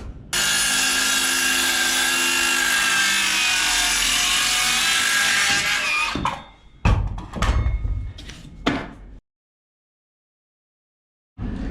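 A hand saw cuts through a cedar plank for an interior log-cabin gable, a steady rasping stroke running continuously for about six seconds, then several short separate strokes before the wood goes quiet.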